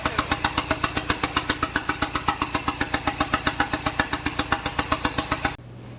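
A close, loud SRT4 drift truck engine with no throttle position sensor runs in a rapid, even loping idle, pulsing steadily for several seconds before abruptly cutting out as it dies.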